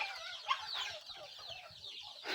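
Several chickens clucking softly nearby, with short repeated clucks and a sharper squawk early on, no talking.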